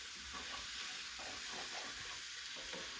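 Mushrooms and onions fry in a pan over slightly lowered heat, giving a quiet, steady sizzle and hiss with faint stirring scrapes, no voices.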